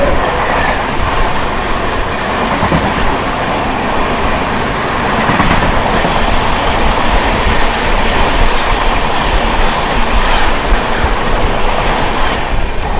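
The Thiruvananthapuram Central–Shalimar Superfast Express, train 22641, rolls into a station with a loud, continuous rumble and rhythmic clickety-clack of wheels over rail joints, sustained throughout at close range.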